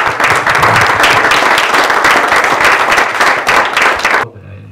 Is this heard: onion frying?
no